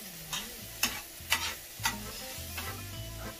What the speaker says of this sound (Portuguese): vamos fritar um pouquinho